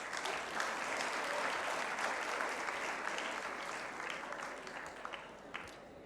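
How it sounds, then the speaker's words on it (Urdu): A conference crowd applauds as panelists are welcomed at a Pakistani discussion event on mainstream and digital media; sustained, full clapping that holds steady, then thins slightly toward the end. "تالیاں تو دل سے مارا کریں، آپ لوگوں کو کیا ہو گیا ہے؟"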